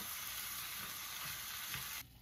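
Marinated diced chicken breast sizzles steadily in a hot stir-fry pan, a dense continuous crackle with no voices, cutting off abruptly near the end.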